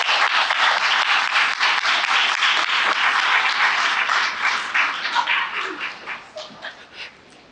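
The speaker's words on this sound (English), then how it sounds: "How about a big hand for the principal?" An elementary school principal receives a big hand from the audience at a district meeting: a dense patter of clapping that stays steady, then thins into scattered individual claps and fades out.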